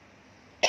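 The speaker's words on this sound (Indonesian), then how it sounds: "Sorry aku batuk." A woman gives a single short cough at the very end, loud and close, after near-silence.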